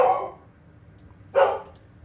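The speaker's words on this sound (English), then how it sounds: "there is a dog barking" Dog barking twice, two short separate barks about a second apart, moderately distant against a quiet background.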